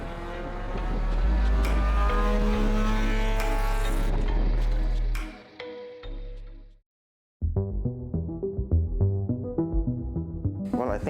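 A 2007 Proton Satria Neo with a MIVEC engine roars loudly and steadily up close for about five seconds, then fades out into a short silence before another rough, pulsing burst of engine noise.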